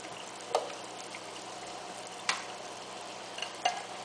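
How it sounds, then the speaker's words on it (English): Three tablespoons of butter melting in a pan before potatoes go in, giving a soft, steady sizzle with a few sharp pops and ticks scattered through it. "here I have 3 tablespoons of butter, and I'm letting that melt a little"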